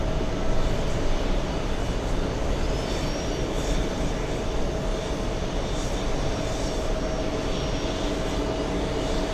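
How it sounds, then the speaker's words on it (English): An airliner on a Rome flight at JFK airport gives off a loud, steady engine roar that stays close and constant throughout. "we have another Rome flight"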